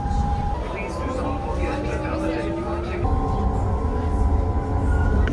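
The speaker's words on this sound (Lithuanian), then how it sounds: "Varom kalnų traukiniu" Interior of a moving mountain train in Slovakia, a steady broad rumble with drifting tonal squeals and hums from the rails, people talking over it throughout.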